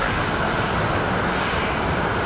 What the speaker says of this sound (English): Qantas 559 heading to Sydney.